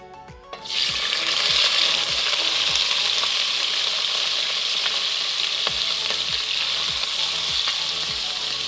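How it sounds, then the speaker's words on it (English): Seasoning drops into hot oil in a pot for Jamaican-style steamed cabbage and erupts into a loud, steady sizzle that holds strong throughout, with faint stirring scrapes underneath. "the oil is hot, and now he's going to add the seasoning"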